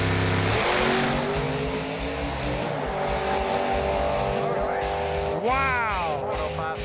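A 1979 Pontiac Firebird makes a drag racing pass, its engine roaring loud and continuous at high revs with a rising whine near the end, over crowd and track noise.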